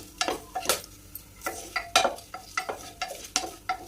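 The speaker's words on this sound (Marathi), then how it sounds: "सर्व मसाले तेलामध्ये छान हलवून घेऊयात" Cloves, cardamom and whole spices stirred in hot oil for Dhaba-style chole, a spoon scraping and clinking against the pan in repeated strokes over a faint sizzle, close and quiet.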